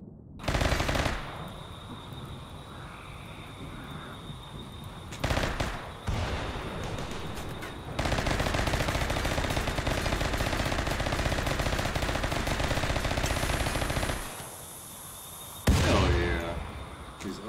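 Rifle fire in a Rimworld battle, heard as loud, sustained automatic bursts with brief pauses between them. The shooting dominates the whole stretch and no voices are heard.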